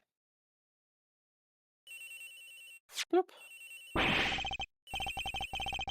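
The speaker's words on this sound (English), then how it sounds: "Agent Hicks' phone! It's ringing from somewhere, sir." A phone rings in the video game Ace Attorney Investigations, with repeated electronic ringtone bursts interrupted by a brief game blip, loud and clear.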